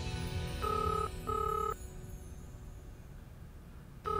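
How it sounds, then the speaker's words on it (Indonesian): Telephone ringing indoors in a drama scene, two loud close electronic rings of about half a second each, then a pause before another ring starts at the end. "Ibu jawab teleponnya, Bu."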